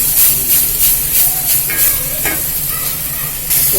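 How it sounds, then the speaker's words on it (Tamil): Spice powder sautéing in oil for a karamani (black-eyed pea) masala, giving a steady close hiss and sizzle with faint stirring scrapes throughout. "தூளை வதங்குதுப்பா"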